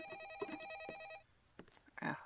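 A telephone bell rings in loud, steady bursts for about a second, then stops, leaving scattered clatter and brief noises close by.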